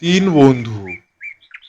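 Cartoon-style birdsong for birds flying home at dusk: a few short, bright chirps follow right after a narrator's voice and then trail off.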